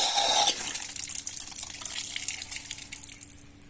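Water gushes from a garden tap in a strong burst that drops off quickly, then keeps splashing and trickling more softly before fading.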